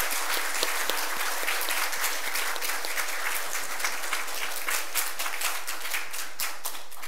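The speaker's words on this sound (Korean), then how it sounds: "우리 환영의 박수 한번 부탁드리겠습니다." A church congregation claps steadily to welcome a visiting missionary from Brazil during a Sunday service. The applause is dense and even, fills the whole stretch at moderate level and has no talking over it.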